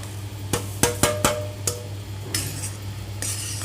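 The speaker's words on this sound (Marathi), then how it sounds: "आणि व्यवस्थित हलवून घ्यायचे।" Roasted semolina being stirred into boiling sugar syrup in a pan: a spoon clinks sharply against the metal several times in quick succession, then gives way to softer scraping and bubbling, with no voices.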